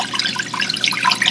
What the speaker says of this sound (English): As you can see, the water starts flowing from